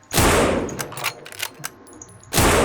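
Sako rifle fired in the zombie shooter No More Room In Hell: two loud, sharp gunshots open and close the clip, with metallic clicks and clanks of handling in between.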